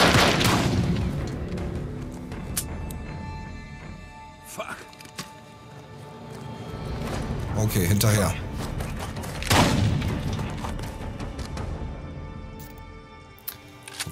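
Gunfire and heavy impacts in the Days Gone video game, a few loud booming shots and thuds scattered across the clip, heard under someone talking over the game.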